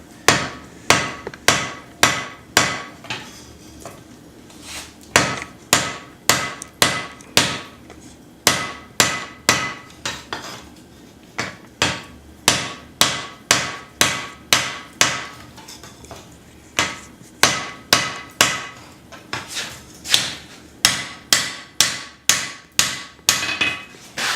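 Rhythmic hammer blows ring out on steel on an anvil while forging a hatchet, sharp and close, in quick bursts separated by brief pauses.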